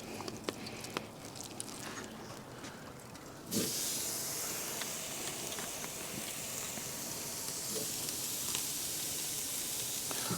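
Steaks hit a grill over ashed-over Fogo lump charcoal and set off a loud, steady sizzle that jumps up suddenly partway through and then holds as a dense, close hiss with faint crackles.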